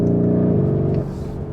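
A stock Lamborghini Urus engine burbles in Corsa mode, a deep, steady low rumble close by that eases slightly toward the end, heard on its own without talk.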